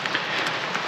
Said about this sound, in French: on est en train d'essuyer une petite averse